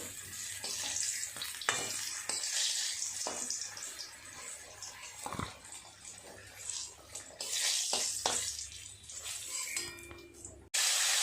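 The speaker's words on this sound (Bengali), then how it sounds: "লাল লাল করে ভেজে নেব কুমড়ো ভাজাগুলো।" Pumpkin slices fry in oil with a steady hiss and crackle that rises and falls, along with occasional scrapes and taps of a utensil, before a brief break near the end.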